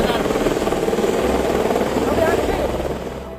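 An army helicopter arrives at a flood relief site in the mountains, its rotor giving a loud, continuous, fast thumping drone close by that holds steady throughout.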